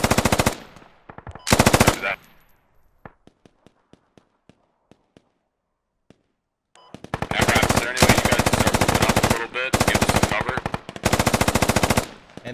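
Automatic gunfire in the shooter game Squad: bursts of loud rapid machine-gun fire, a lull with scattered distant single shots and echoes, then a long sustained stretch of heavy near firing in repeated bursts.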